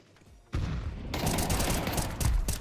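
A grenade goes off in a first-person shooter video game, with a sudden loud blast followed by a dense burst of rapid gunfire that continues for a couple of seconds.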